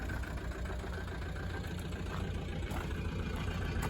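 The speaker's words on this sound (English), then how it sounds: "that's just a little chuff at idle" A car engine with a cracked piston idles steadily, with a rough, rapid chuffing pulse from the tailpipe, a continuous close mechanical drone and no talking.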